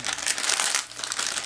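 Close crinkling of a soft plastic wipe packet, a brief continuous rustle with no talking.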